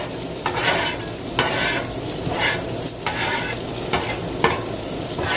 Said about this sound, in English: Let me clean a spot for my eggs.